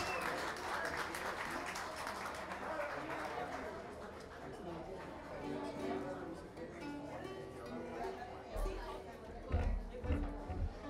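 Audience applause at a magazine's third-anniversary celebration, a quiet clapping wash mixed with crowd chatter, giving way to a talking voice and some louder bumps near the end.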